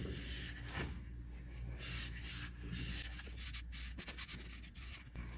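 A cloth rubs gently over the surface of a vintage Minnesota treadle sewing machine to clean it, soft, faint scrubbing strokes in an irregular back-and-forth rhythm.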